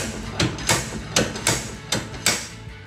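Hammer blows driving a bearing out of a Ford 8.8 rear axle, six sharp metallic strikes at a steady, fairly quick pace, close and loud, with a faint ringing between hits and no talking.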